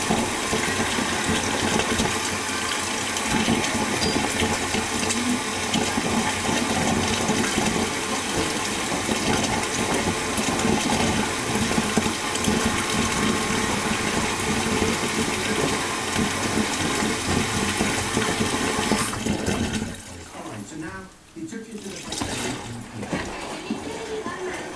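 Washing machine running a rinse cycle, a steady loud wash of churning water and motor noise that drops off sharply near the end, leaving a quieter rumble.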